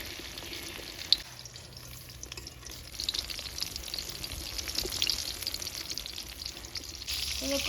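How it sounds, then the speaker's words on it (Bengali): Onion pakoras deep-frying over a low flame in a village kitchen give off a steady, soft crackling sizzle. It runs continuously with faint bubbling and a brief clink early on, close but fairly quiet, with no talk. "এরকম হালকা জালে লাল লাল করে পেঁয়াজ পকোড়া ভাইজা"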